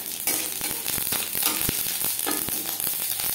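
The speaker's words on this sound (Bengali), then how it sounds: "লঙ্কা ভেজে নেওয়ার পর দিয়ে দেবো কালো সর্ষে।" Black mustard seeds crackle and sizzle in hot oil after dried red chillies have been fried, with a steady dense hiss and scattered sharp pops from the spluttering seeds, close and continuous.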